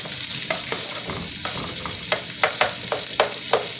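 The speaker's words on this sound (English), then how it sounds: "I can hear it sizzling. Y'all hear that sizzle?" Sausage and chopped onion sizzle in a frying pan over medium heat, a steady close hiss punctuated by a series of sharp spatula clicks and scrapes against the pan, with no talking.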